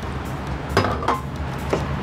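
A few light clinks of a utensil against a dish as naan is put onto a plate, three brief taps spaced apart over a quiet kitchen background.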